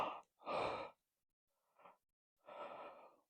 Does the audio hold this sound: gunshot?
no